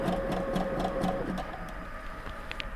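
A sewing machine stitching a turtleneck, running in a steady, fast, close-up whir for about a second and a half before slowing and dropping to a quieter hum.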